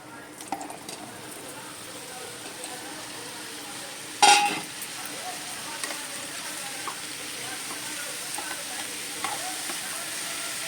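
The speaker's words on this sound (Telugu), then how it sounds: "ఆయిల్ వీటెక్కిన తర్వాత ఈ మష్రూమ్ కొంచెం లైట్గా ఫ్రై చేయాలండి" Mushrooms frying lightly in hot oil, a faint steady sizzle with one sharp clank from a pan or utensil partway through and a few soft scrapes, quiet and close.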